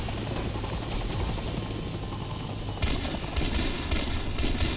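Helicopter in the Far Cry 3 video game lifting off, a steady loud rotor drone with low thumping, joined partway through by bursts of automatic gunfire.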